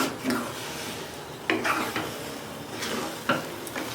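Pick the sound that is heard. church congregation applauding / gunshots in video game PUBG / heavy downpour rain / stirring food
stirring food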